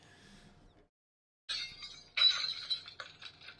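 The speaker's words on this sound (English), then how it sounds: "Why the breaking glass" Glass shatters in a sharp, bright crash, followed by scattered tinkling and clinking shards in a second burst after a brief silence; played as a sound effect with no talk over it.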